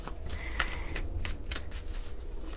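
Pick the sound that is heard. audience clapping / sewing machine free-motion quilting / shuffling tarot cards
shuffling tarot cards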